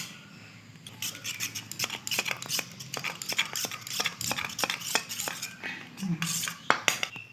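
A spoon mixes ginger, coriander and cumin powder with water into a paste in a bowl, making repeated close scraping strokes and metallic clinks in an irregular rhythm.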